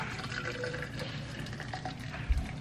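Water pours steadily into a cup for Lipton classic black tea, a soft continuous trickle at close range with faint background noise and no talking.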